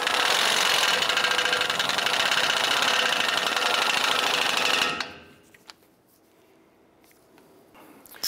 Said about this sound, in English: Go ahead and snug up the lower ball joint nut.